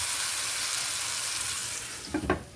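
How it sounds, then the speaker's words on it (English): A loud, steady sizzle of sausage frying in a pan on a stovetop; near the end half a cup of water splashes in and the hiss briefly surges. "Add half a cup of water"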